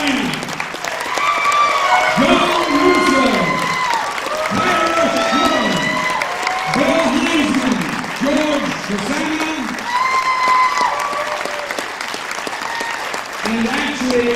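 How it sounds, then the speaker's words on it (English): Audience applause for cast members at a Night of the Living Dead 40th anniversary event: a sustained, dense round of clapping fills the room, with scattered voices and cheers mixed in throughout. "then you can all stand up and get your round of applause"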